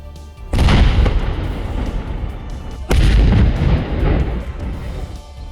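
Two deep, booming blasts from controlled detonations of unexploded Pakistani artillery shells in Jammu and Kashmir or Rajasthan, each followed by a long rumbling roll that slowly fades.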